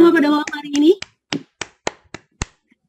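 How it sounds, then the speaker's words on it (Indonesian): A voice talks briefly at an evening PGRI teachers' meeting, then a handful of sharp, separate claps follow at a slow, uneven pace, close and distinct with silence between them. "tepuk tangan untuk kita semua pada malam hari ini"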